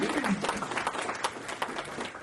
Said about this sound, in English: So if I could have a round of applause for our support team back there and everybody on the tax team